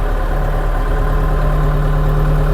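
A Scout 404C tractor engine drones steadily in a low gear, loud and close, with a constant low rumble and an even mechanical pulse that never wavers.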